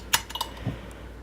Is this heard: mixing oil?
yes